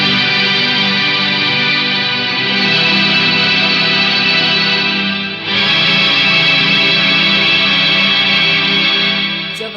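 Electric guitar played through an Electro-Harmonix Mel 9 tape replay pedal with the effect level at full, giving a dense, smooth, sustained wash of overlapping tones that swell and blend, with a brief dip midway, loud and alone.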